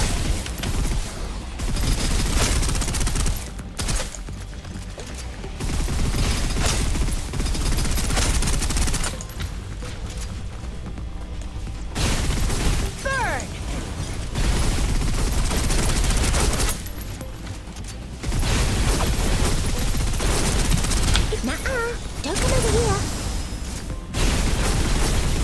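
Sustained bursts of rapid gunfire in the video game Snowbreak come in loud, dense volleys separated by short quieter pauses, with no voices.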